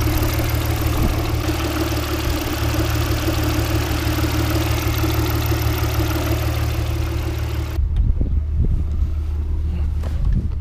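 An Audi A4 3.0 V6 engine idles steadily with an even, low drone, close by, then cuts off abruptly, leaving faint scattered knocks.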